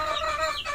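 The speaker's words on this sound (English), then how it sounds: "Manghuli ako ng manok dito sa labas." A chicken outside a house in the Philippine countryside gives a loud, close cluck and squawk, brief and alone.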